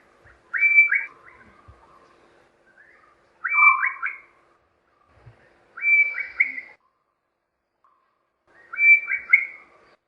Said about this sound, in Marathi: black crested Bulbul